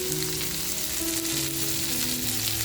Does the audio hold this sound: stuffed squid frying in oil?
yes